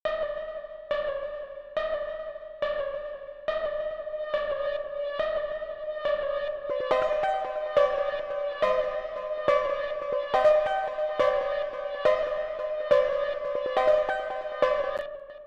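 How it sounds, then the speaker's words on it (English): A Krypton Ice pluck synth in FL Studio plays alone as a repeating echoing melodic pattern of short bright plucked notes with reverb tails, growing denser and fuller halfway through. "I added this little Krypton Ice pluck"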